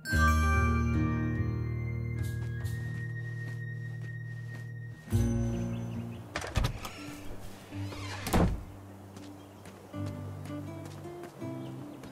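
A small bell from King's Quest jingles as it is taken, bright tinkling tones ringing out over a sustained game music backdrop, followed by a few soft thunks and clatters.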